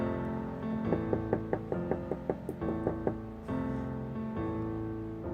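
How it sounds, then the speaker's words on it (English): A run of about a dozen hollow knocks on a door, evenly spaced raps near and fairly loud over a steady musical background, with no talk. "there's knocking on the door again"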